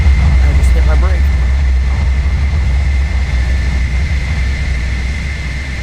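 A video-game F-14 jet lands on a long runway and brakes, a loud low engine rumble with a steady whine that slowly eases, under a person talking.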